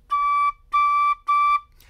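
Tin whistle sounding the vented second-octave D in three clear, bright sustained notes, each about half a second, close and loud with short gaps between.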